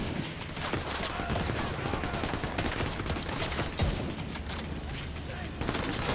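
Gunfire in the video game The Division 2, with dense, continuous bursts of shots and rattling fire filling the whole stretch at moderate level.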